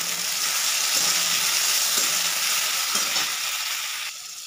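Chopped tomatoes go into light-brown frying onions in a pan, and a continuous close sizzle crackles steadily before easing slightly near the end.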